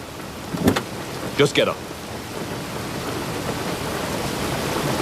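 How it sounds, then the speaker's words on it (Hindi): Heavy rain pours steadily outside during a tense dramatic film scene, with a dense hiss throughout and a couple of brief rumbling bursts early on; someone speaks briefly over it. "लेकिन बाहर बारिश हो रही है।"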